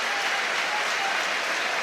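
Football stadium crowd at a Hull City versus Sunderland match applauding a decision, a dense, steady wash of clapping heard from a distance.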